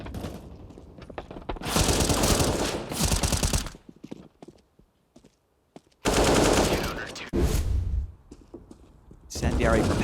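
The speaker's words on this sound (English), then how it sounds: "Look at Fang with these headshots, though" CS:GO match at IEM Katowice 2023, with dense bursts of rapid automatic gunfire and sharp Desert Eagle headshot cracks in several loud clusters separated by brief quiet gaps.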